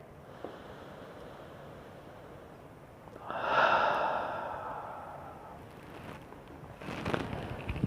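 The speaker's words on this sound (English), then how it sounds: "One more time, breathing in." A single slow, breathy exhale swells and fades over a couple of seconds, followed later by a softer second breath; quiet room noise otherwise, no talking.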